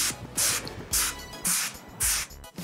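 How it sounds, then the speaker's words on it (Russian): Four short hissing bursts from an aerosol hair spray can, evenly spaced and close by, with quiet pauses between each spray. "Распределяете спрей по длине."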